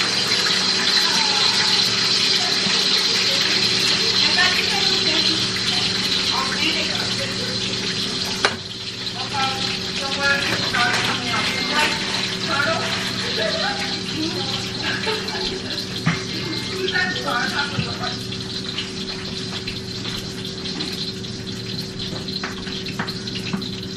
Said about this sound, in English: let's put in the fries in the pan